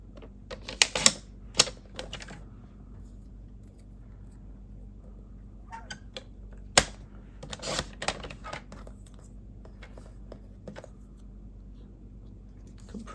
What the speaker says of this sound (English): I'm going to bring my paper trimmer in and cut this down to be a little bit smaller.